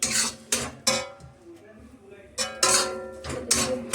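Carrot halwa is stirred in a pan with a spoon, giving several sharp scraping strokes in uneven bursts, with a voice talking between them.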